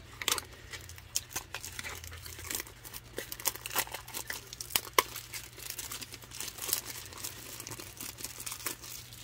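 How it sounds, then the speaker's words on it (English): Plastic wrap peeled off a mini 3-inch canvas with a small easel, crackling and crinkling up close in irregular bursts. "Get the plastic wrap off of this so you can show you what an actual one looks like"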